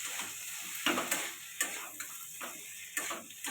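Dal bori, egg and potato curry is stirred in a pan, with a spoon scraping and knocking in irregular strokes over a soft, steady sizzle, quiet and close.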